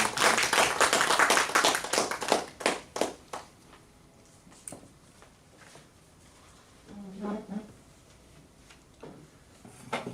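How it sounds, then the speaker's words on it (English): A Toastmasters audience gives a round of applause for a speaker, brisk clapping loud at first then thinning to scattered claps that fade out, followed by quieter room sounds. "Please welcome Toastmaster Zaid Kaliya. Big round of applause."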